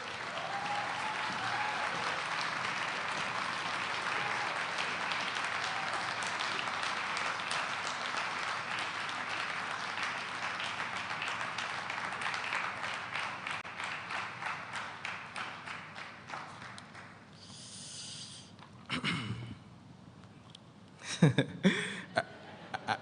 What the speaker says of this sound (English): please join me with a resounding round of applause